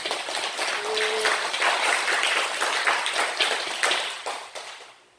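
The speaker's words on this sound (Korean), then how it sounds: "하나님께 영광의 박수 올려드립시다" A church congregation at a Sunday worship service breaks into sustained applause, dense and steady for about four seconds, then thins out and fades toward the end.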